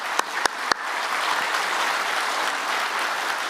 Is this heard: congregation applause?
yes